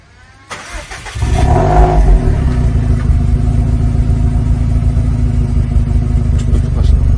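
A GRB car with a 2.2-litre engine and a Nur-Spec exhaust cranks and fires up, then settles into a loud, steady idle close by.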